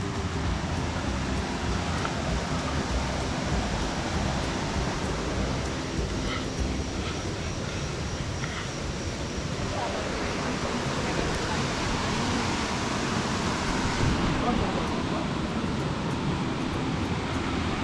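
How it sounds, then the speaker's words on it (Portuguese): Santa Bárbara waterfall in Chapada dos Veadeiros, heard while approaching it, gives off a steady, unbroken roaring rush of falling water that fills the whole stretch at an even level. "Acho que tá chegando aqui já na cachoeira."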